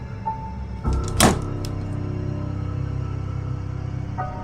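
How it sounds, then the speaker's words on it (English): An indoor door is shut by a person with a single solid thud about a second in, close by, set against a low steady room hum with a few faint knocks before it. "then shut the door on me."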